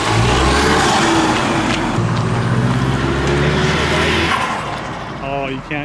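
Turbo four-cylinder 2015 Mustang drift car doing donuts, engine roaring loud and close with tire scrub, droning through a sustained pull before easing off, voices talking over it.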